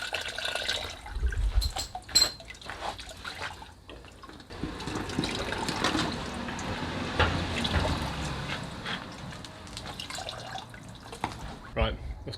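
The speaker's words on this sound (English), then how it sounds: "Right, let's drop the coolant." Coolant drains out of a broken engine during a teardown, a continuous splashing pour of liquid with drips, and a person talks over part of it.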